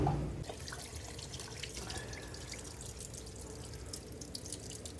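Water trickles and drips steadily as it drains from a pool pump after its two side plugs are removed, a quiet continuous splashing heard close by.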